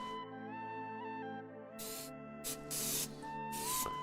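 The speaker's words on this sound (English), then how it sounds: "we'll just spray that with a little bit more veggie spray on top" Vegetable oil cooking spray is squirted onto a shepherd's pie chili dish outdoors on a balcony, with several short hissing bursts over a steady tonal background hum.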